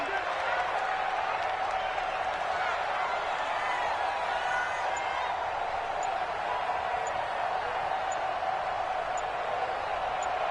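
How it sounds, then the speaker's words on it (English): A stadium crowd in the Madden 20 American football video game cheers in a steady, unbroken roar for the whole stretch, under faint voices. "The crowd getting into it as we come up on a big 3rd down."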